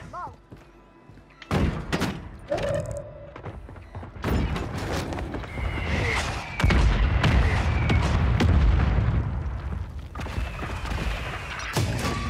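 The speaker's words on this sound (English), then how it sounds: "Mortar strike inbound." Mortar strike explosions in a video game, a series of heavy thuds and booms arriving in irregular bursts, with gunfire cracks and rumble building into a dense loud barrage.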